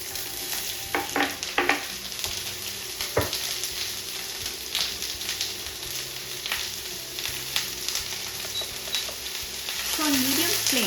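Chopped onions frying in about three tablespoons of oil over a medium flame: a continuous close sizzle broken by occasional clinks and scrapes of stirring.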